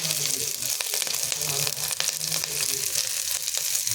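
Green chillies fry in hot oil with a steady, bright sizzle and crackle, and occasional stirring scrapes run through the whole stretch. Faint talk sits underneath.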